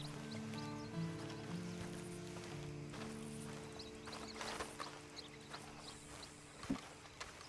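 Hooves clop in a loose rhythm over a low, droning musical backdrop, with a soft snort or whinny-like sound near the end.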